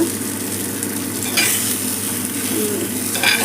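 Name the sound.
fish pieces frying in a pan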